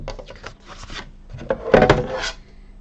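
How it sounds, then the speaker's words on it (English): A bone folder rubs firmly across scored cardstock while making a card, several short dry scraping strokes close to the ear, rising to a louder rasp near the end, quiet otherwise. "Burnish with our bone folder."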